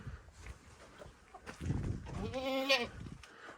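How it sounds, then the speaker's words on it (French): A goat bleats once on a farm, a faint wavering cry in the last second, over quiet background noise and low murmuring. "Pourquoi elle a enfermé la chèvre?"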